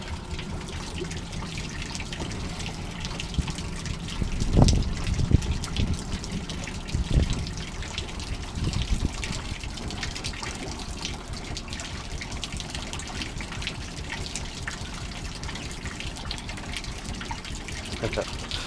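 Water trickles and splashes steadily nearby in an aquaponics system, with a few louder gushes early on, continuous throughout.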